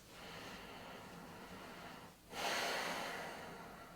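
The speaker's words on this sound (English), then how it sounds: "Breathe in, breathe out. Nice long breath" Slow, deep breaths during a floor yoga session, a long soft airy inhale that fades, then a fuller, louder exhale rushing out close to the listener.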